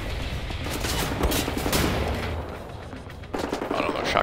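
Shotgun gunfire in the video game Wolfenstein: The New Order, dense repeated blasts amid a busy, loud game mix of shooting and action throughout, with some talk mixed in.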